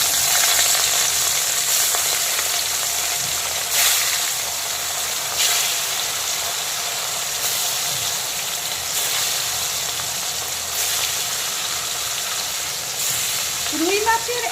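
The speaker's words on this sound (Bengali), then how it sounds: "এখন আমি লবণ হলুদ মাখানো রুই মাছগুলোকে একে একে তেলের মধ্যে দিয়ে দেব।" Rohu fish pieces coated in salt and turmeric fry in smoking-hot mustard oil, making a loud, continuous close sizzle with periodic crackling surges.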